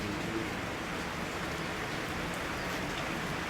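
Steady rain hisses evenly on surfaces throughout, a dense, constant patter with no voices.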